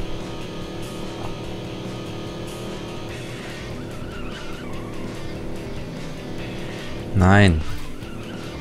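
Vehicle drifting in the FUEL racing game, a short, loud tire skid that rises in pitch near the end over steady engine drone, with someone talking briefly.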